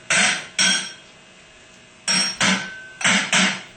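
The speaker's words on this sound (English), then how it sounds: "give it a tap on the top with a hammer" A hammer taps on a stuck end plate of a 10MT starter being rebuilt, six sharp metallic strikes in two quick pairs and a pair after a pause, close and clear with no talk.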